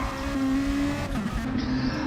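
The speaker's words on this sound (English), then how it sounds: "He's full revving it." A race car engine in a racing video game revs hard with a sustained, steady tonal whine that shifts pitch as it goes, heard close up without talk.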